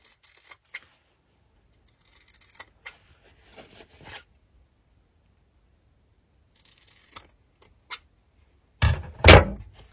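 Scissors snip the corners of a sewn fabric pouch in a few sparse, crisp cuts spread over quiet pauses, ending with a louder burst of rustling fabric close by.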